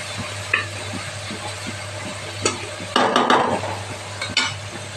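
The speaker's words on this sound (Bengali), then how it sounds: "মশলাটার থেকে তেল বেরিয়ে এসেছে, ভাজা হয়ে গেছে" Spice paste with tomato frying in a pan, a low steady sizzle with occasional scraping stirs and a brief louder clatter of the spoon against the pot, no talk.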